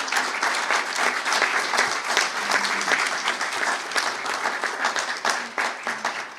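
Applause for the Dreamers at a Senate press conference on the Dream Act, a dense, steady round of clapping from a crowd lasting several seconds without speech.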